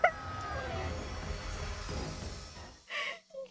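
A chicken in a video game gives a short clucking burst at the start, then a wash of busy game sound, with two more brief clucks near the end after a moment of quiet.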